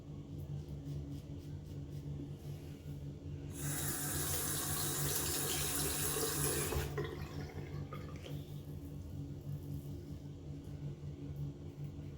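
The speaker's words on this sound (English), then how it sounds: "it rinses perfectly well off the razor" A shaving razor is rinsed under a running tap, a steady hiss of flowing water that starts abruptly and runs for about three seconds before cutting off, close by, with faint drips and low room rumble around it.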